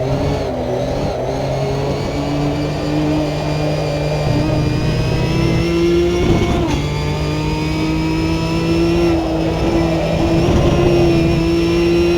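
Car engine in a racing video game holding a loud, steady drone that climbs gradually through the gears, with a brief bump midway and no voices.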